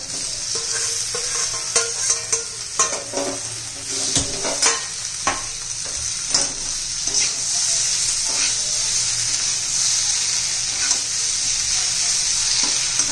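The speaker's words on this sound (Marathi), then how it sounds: "आता त्यात आपण भेंडी घालून घेऊया." Okra and potato frying with coriander powder, turmeric and red chilli in a pan, a steady close sizzle broken by repeated clanks and scrapes of a spatula stirring, the scraping easing off toward the end.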